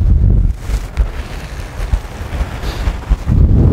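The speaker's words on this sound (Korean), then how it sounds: "야, 이거 바람이 이래도 되나 싶을 정도로 바람이 불고 있어요." Strong wind buffets a fishing boat at sea off Jeju Island, roaring low gusts hitting the microphone loudly at the start and end, with a rougher, fluttering rush of air and water noise in between.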